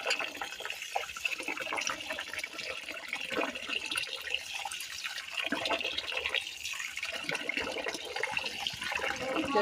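Water splashes and pours as a large fish is rinsed by hand in a rural Bangladeshi village kitchen, a continuous close sloshing with uneven surges of running water.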